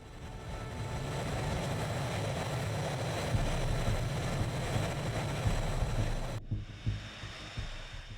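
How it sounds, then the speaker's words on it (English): A steady, broad roar of a TWA airliner climbing after takeoff, dense and unbroken for several seconds before dropping abruptly to a thinner, quieter rumble. "The aircraft climbed smoothly and set course for Washington."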